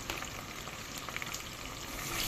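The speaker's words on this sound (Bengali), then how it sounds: "ভালো করে মশলাগুলো কষিয়ে দেবো পেঁয়াজটা ভালো করে কষিয়ে নিতে হবে" Onion paste with turmeric, salt, chilli and cumin powders frying in a pan for a fish dish, giving a dense, steady sizzle close up that runs throughout without talk.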